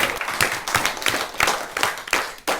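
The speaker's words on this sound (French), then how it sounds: "vous pouvez vous applaudir." A school class claps for itself, a lively close burst of many small hands applauding unevenly, with scattered louder claps and no talk over it.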